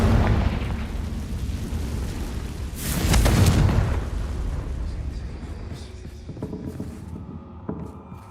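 A Confringo spell blast in the Hogwarts Legacy video game: one loud, broad explosive burst swells in the middle over a steady rumbling game backdrop, then fades into quieter ambience.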